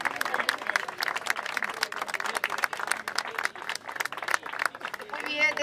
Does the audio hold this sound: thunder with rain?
no